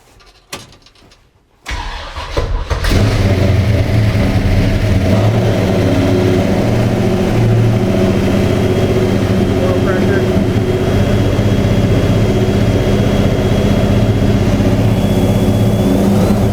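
A 1972 Chevy K20 truck's engine fires up for the first time after a wiring kit install and torque converter swap, then settles into a loud, steady rumbling idle with revving, close by.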